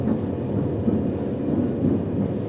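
Ballast train on a French SNCF rail line rolling steadily along the track, giving a continuous low rumble and rattle without break, fairly loud and close.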